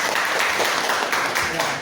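A group of teachers clapping together at a school workshop session in a continuous dense patter, fairly loud, with speech mixed into the applause.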